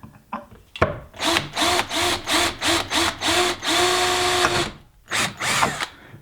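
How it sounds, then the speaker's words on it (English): Power drill boring holes through the knockout spots of a Cinoton exterior wall light housing, running in a quick series of short close bursts, then one longer sustained whine, a pause, and another burst. "By drilling holes through the spots I want."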